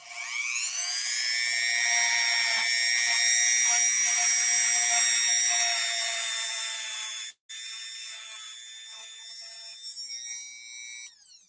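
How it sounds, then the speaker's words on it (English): A Dremel rotary tool spins a cleaning brush with a sustained high-pitched whine. It cuts out abruptly for a split second, then resumes a little quieter and wavers toward the end. "So periodically, as you're cleaning something using a Dremel,"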